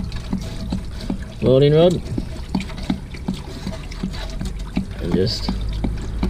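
Water gushes steadily out of a Jayco caravan's Suburban hot water unit during an anode rod change, a continuous rushing splash beneath someone talking.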